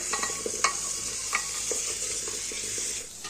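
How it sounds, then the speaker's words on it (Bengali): Carrots frying in ghee for gajar halwa, stirred with a spoon: a constant bright sizzle broken by repeated scraping and clinking strokes against the pan at an uneven pace, close by and moderately loud. "দেখো ঘিয়ের মধ্যে এই গাজরগুলো দিয়ে এখন একটু নাড়তে থাকবো"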